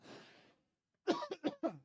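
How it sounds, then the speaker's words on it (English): A person coughs: a soft breathy exhale, a pause, then four quick close coughs in a tight burst. "Plus, I can't stop coughing."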